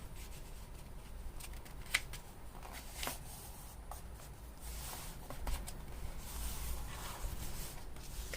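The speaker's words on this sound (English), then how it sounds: "let's do another fold like the one that we had before on this page" Paper handling close up while a book page is folded for an autumn altered-book junk journal: soft crinkles and rubs with a few sharper crisp creases, quiet under a low steady hum, with no talking.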